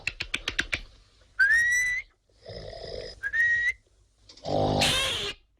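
Whistling aimed at quieting a snoring man in a French film comedy: a rising whistle tone comes twice between deep snore-like rasps, after a few sharp taps, with a loud final snore, fairly close.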